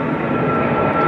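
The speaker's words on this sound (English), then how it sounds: "We're going to wait till that FedEx plane goes overhead" A FedEx cargo plane passes overhead as a loud, steady engine roar that fills the whole stretch without a break. No voices are heard.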